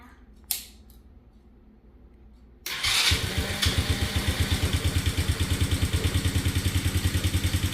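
A small four-wheeler engine cranks after a brief click, then catches and settles into a fast, steady pulsing idle, close and loud.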